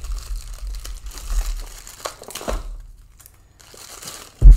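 Plastic wrapping crinkling and tearing as a GoPro Hero 8 bundle is unboxed, close and busy rustles for a couple of seconds, a quiet pause, then a sharp handling thump at the end.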